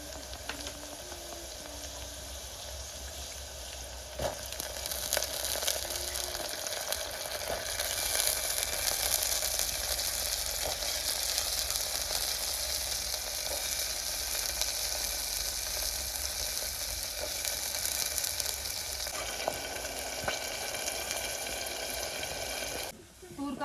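Green pigeon peas tipped into onions frying in a pan in a village kitchen, a loud continuous sizzle that swells after the peas drop in, with faint stirring clicks and someone talking underneath.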